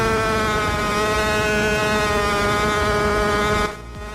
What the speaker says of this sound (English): This is the new Formula One engine.